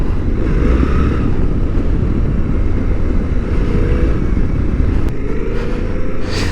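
Suzuki V-Strom 800 DE motorcycle, 2023 model, riding in first gear: a steady, loud engine drone with heavy low rumble and wind buffeting, continuous throughout with no talk.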